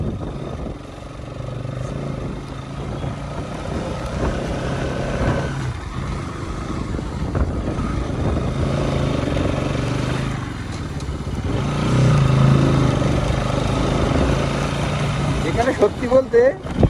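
A motorcycle ridden along the roads of Darjeeling, its engine a steady mid-level drone under continuous wind rumble, while a person talks over it almost throughout.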